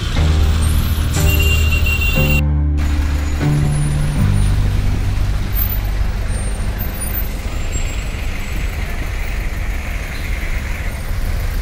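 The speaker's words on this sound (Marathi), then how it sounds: "सगळ्या गाड्या एकत्र चालल्यात, फुल ट्रॉफिक जाम" Dense road traffic jam crowded with trucks and other heavy vehicles, a loud continuous engine rumble with a brief air-brake hiss and horn-like tones early on, no talking.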